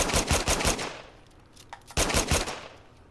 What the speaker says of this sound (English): Third-person shooting.